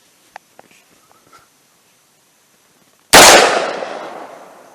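A single loud, close gunshot from an 8.5-inch AR in .300 Blackout firing 110 grain Varmageddon, a sharp crack with a decaying tail, after a few faint clicks and handling noises.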